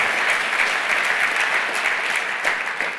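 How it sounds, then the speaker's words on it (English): Conference audience at a GAA National Games Development event applauds Croke Park staff, dense continuous clapping filling the room, even and loud from start to finish. "I think they deserve a round of applause for what they've done for us all."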